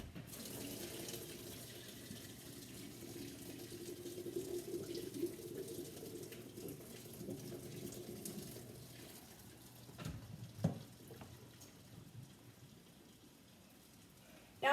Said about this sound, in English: Now I'm dumping all this water out because I don't want the hot water going into the cold water.